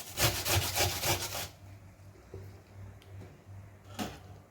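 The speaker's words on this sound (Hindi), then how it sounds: "तो यहाँ पे मैं प्याज को इधर से ग्रेटर के साथ ग्रेट कर लूँगी।" Onion being grated by hand on a kitchen grater, a series of quick rhythmic rasping strokes close up, then a short pause and one more scrape, with no talking.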